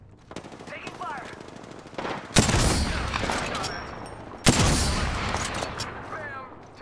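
Automatic weapon fire in Apex Legends, rapid bursts with two sharp loud volleys standing out over continuous shooting and faint game voices.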